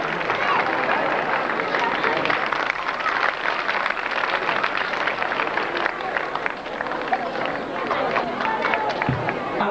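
Audience applause at a temple renovation program for Shri Nilkanth Mahadev temple, a dense, steady wash of many hands clapping that holds for the whole stretch, with faint crowd murmur underneath.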